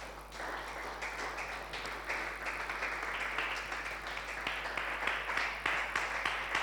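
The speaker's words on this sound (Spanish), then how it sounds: "Dele un aplauso al Señor." A church congregation claps together in steady, continuous applause, fairly faint and a little distant, with a low electrical hum underneath and no talking.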